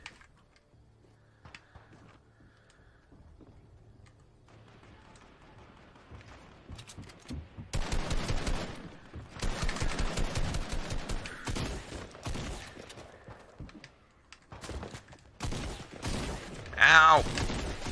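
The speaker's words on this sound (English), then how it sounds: "Getting shot from three different angles here." Bursts of gunfire in the Fortnite video game, several loud volleys of rapid shots from about eight seconds onward after a quieter stretch, with brief pauses between bursts and a final sharp burst near the end.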